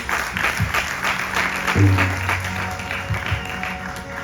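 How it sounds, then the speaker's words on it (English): Applause from an audience at a Ganesh Chaturthi festival night, a steady wash of clapping that swells and fades over the clip, with a low hum in the background. "I think Panditji deserves another round of applause."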